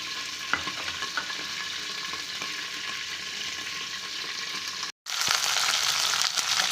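Green chilies frying in a covered pan, a steady close sizzle that cuts out for a moment when the lid is handled, then returns as loud as before.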